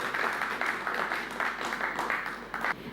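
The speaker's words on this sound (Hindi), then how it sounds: "तो जोरदार तालियों के बीच स्वागत कीजिए रेणु सांगवान का" An audience at a Mahila Kisan Diwas farmers' programme gives a guest sustained applause, many hands clapping together in a steady, fairly loud burst that swells slightly before fading toward the end.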